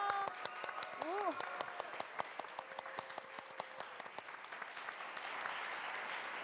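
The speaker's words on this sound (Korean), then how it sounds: "우리 학생들이 온몸으로 박수를 보내고 있는데요" Students and staff of a school for the blind clapping at a Christmas special broadcast, sharp individual claps in an uneven rhythm, fairly quiet, with a voice speaking at the start and the clapping swelling toward the end.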